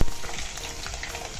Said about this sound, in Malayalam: ഇതുകൂടെ ചേർത്തിട്ട് നന്നായിട്ട് വഴറ്റിയെടുക്കണം